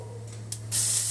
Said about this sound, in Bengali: প্রথমে কালো জিরে দিচ্ছে, কালো জিরে ফোড়ন